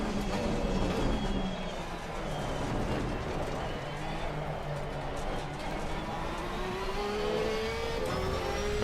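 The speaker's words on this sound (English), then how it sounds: "McLaren sliding around." A McLaren race car in the ACC racing game slides around a track corner, its engine droning steadily with rising pitch as it revs throughout, with speech likely present alongside the engine.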